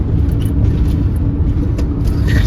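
Steady, loud low rumble of a car engine and road noise from inside a moving van on the road, constant throughout with no voices.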